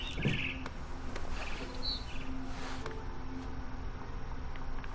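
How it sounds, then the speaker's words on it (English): Brief barn swallow chirps from outside a window sound near the start and again a little later, faint and intermittent against a steady background hiss. "Then I heard chirping outside my window."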